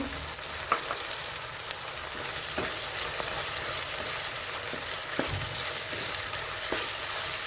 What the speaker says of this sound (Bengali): টমেটো কুচি দিয়ে নাড়াচাড়া করে নিতে হবে।